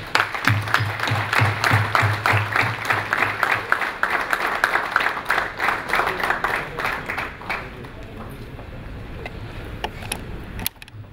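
An audience claps loudly for an award presentation at a magazine's anniversary event, steady rhythmic applause that thins out after several seconds into scattered claps and room noise.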